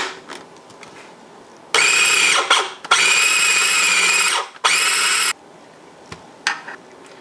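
An electric mixer creams butter for a keto almond cocoa cheesecake, running in three loud, steady bursts with short pauses between, then falling quiet.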